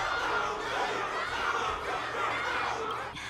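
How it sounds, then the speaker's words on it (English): A dense crowd cheers and chatters steadily in a constant, moderately loud wash of voices, in the video game Honkai: Star Rail. "Can't you hear? Everyone's cheering for you, Luca!"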